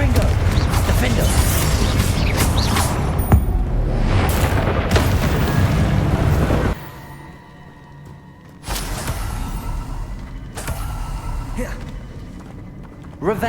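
Confringo fire spells from Hogwarts Legacy explode in loud, heavy booms over a rumbling combat soundscape. The action drops to a brief quiet stretch midway before more blasts and clatter resume.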